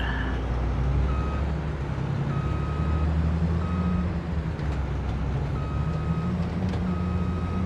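Repeated reversing beeps from a truck in the farming video game Farming Simulator 22, a steady series of evenly spaced tones sounding over a constant low engine rumble.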